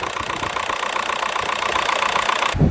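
A Volkswagen Golf 4 GTI TDI diesel engine idling after a turbo replacement, a loud, steady, close clattering rumble with an even rhythm, cut off abruptly at the end.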